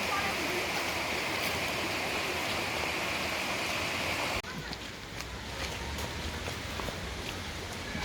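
A small stream beside a forest walking path to Kakochang Falls flows steadily with a loud, broadband rushing, then drops slightly in level partway through as the recording position shifts.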